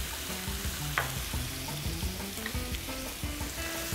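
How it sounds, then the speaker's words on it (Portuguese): Tuscan sausage sizzles steadily in olive oil in a pan, a constant crackling fry with occasional scraping stirs, no voices present. "vou colocar essa linguiça para fritar agora"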